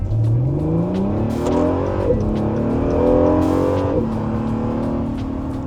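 An Acura NSX supercar accelerates hard, its engine note climbing steeply through the gears with two clear shifts before the revs rise again, heard close and alone.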